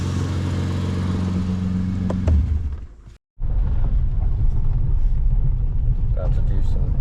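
A loud, throaty Lexus IS350 exhaust rumbles and revs, dropping off abruptly for a moment before the low engine roar returns steadily.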